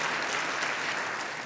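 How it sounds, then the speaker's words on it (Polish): Dense, steady applause from an audience in a hall during an arts award gala, a continuous wash of many hands clapping at moderate volume with no talk over it. "Wielkie brawa."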